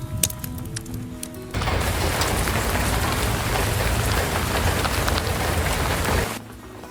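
Steady, dense rain falls on a cabin in stormy weather, a continuous loud patter that begins abruptly and runs for about five seconds before cutting back to a quieter background.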